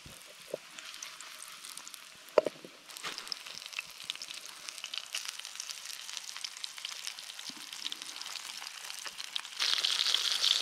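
Fish frying in oil in a pan over a campfire in the Pilbara, Western Australia, crackling and sizzling continuously with scattered pops, close and fairly quiet, swelling louder near the end, with no talking.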